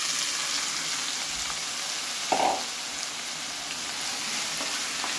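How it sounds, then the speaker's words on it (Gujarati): Finely chopped onions, ten to twelve of them, sauté in hot oil with crackled cumin for dhaba-style paneer bhurji. A steady, soft frying hiss runs throughout, with one brief louder crackle near the middle and no talk. "હવે આ ડુંગળીને તમારે ગોલ્ડન બ્રાઉન થાય ત્યાં સુધી સાતળવાની"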